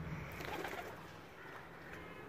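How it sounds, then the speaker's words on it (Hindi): An old pigeon coos softly in low, rolling murmurs, close but quiet over a steady background hiss. "ये बूढ़ा कबूतर है ये।"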